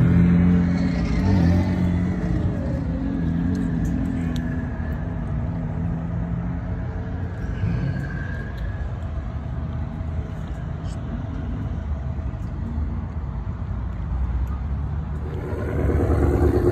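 A supercharged 2019 Camaro SS with a Whipple blower at a drag strip gives a loud, steady engine roar that holds throughout, swelling again near the end, with some talk mixed in.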